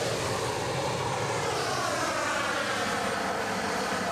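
KLM airliner taxiing on the ground at Edinburgh, a continuous loud engine roar and whine that stays steady and fairly near over the whole span, with no voices.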